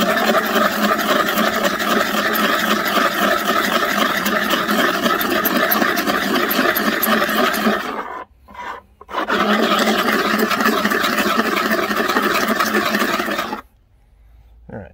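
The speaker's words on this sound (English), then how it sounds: "I'm actually grinding that metal off because this lip is folded down and crimped down" Harsh, loud metal grinding as the crimped lip of a food can is ground off, continuous for about eight seconds, a brief stop, then grinding again before cutting out.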